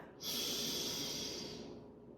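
A single long, steady inhaled breath rushes in during energizing breath work and is held under pressure at the top. It is close and fairly loud, with no talking, and fades slowly toward the end.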